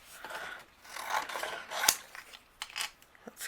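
Paper being trimmed for a handmade Christmas card, with soft slicing and rasping cutter strokes in a quiet room, one sharper snip near the middle and a few lighter scrapes toward the end.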